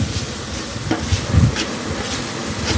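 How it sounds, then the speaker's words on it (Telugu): Green chillies sizzle and fry in a pan while being stirred for chicken biryani, a steady close crackle with a couple of brief scraping stirs. "ఇలా బాగా పచ్చిమిరపకాయలు వేసుకొని ఫ్రై చేసుకోవాలి."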